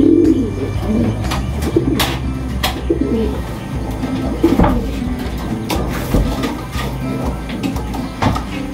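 Racing pigeons coo softly and repeatedly at close range, low throaty calls rolling over one another amid scattered flutters and small clicks.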